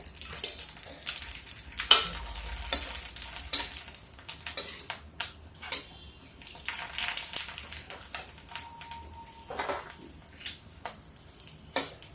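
Rice papad frying in oil in an iron wok, light crackling sizzle with scattered metal scrapes and clinks of a utensil against the pan, uneven and close, without talk.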